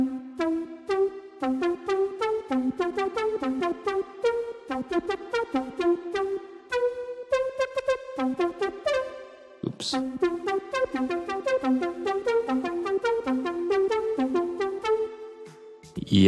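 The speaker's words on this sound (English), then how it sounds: "synth one, the pluck is finished. So it sounds like this." Retro synth pluck patch playing a quick rhythmic pattern of bright, short plucked notes with a brief pause midway, loud and alone.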